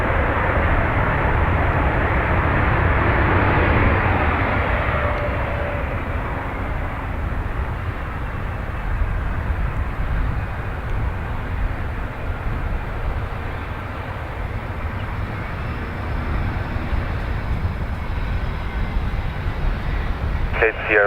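Fixed-wing aircraft arriving at Dublin Airport, its engine a steady broadband roar that swells loudest early on and then holds at a sustained level throughout, with voices talking over it.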